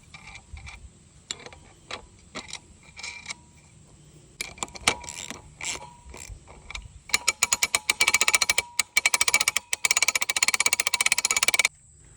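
A fitting on a homemade buck skinning pole is tightened with a ratcheting tool: scattered clicks at first, then rapid, dense runs of sharp metallic ticks close to the microphone.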